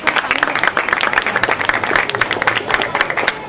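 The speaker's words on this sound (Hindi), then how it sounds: "जोरदार ताली।" A crowd at a stage event claps in a dense, steady burst of applause, loud and close throughout the short stretch.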